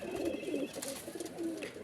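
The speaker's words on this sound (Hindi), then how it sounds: "ये कबूतर जी मेरा रेसर है, ये 3 साल है।" A racing pigeon, three years old, gives soft rolling coos close by, repeating in short bursts with faint rustling underneath.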